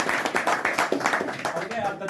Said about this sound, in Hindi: तालियों के साथ स्वागत कर भैया।